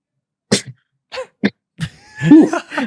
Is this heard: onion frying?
no